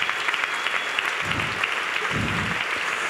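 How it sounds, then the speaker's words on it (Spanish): Applause from an audience at a youth church service, a steady wash of clapping with two brief low swells of crowd noise rising within it. "¿Habrá algún generoso que pueda aplaudir?"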